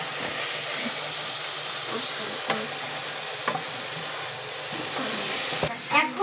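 A spatula stirs frying food in a hot pan with steady sizzling and scraping, broken by a few sharp knocks against the pan and a louder clatter near the end; a faint voice sounds in the background.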